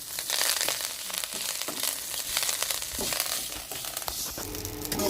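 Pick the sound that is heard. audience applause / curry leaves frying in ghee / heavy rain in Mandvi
curry leaves frying in ghee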